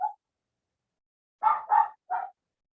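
A dog barks nearby, one short yip followed after a pause by three quick barks, with silence around them.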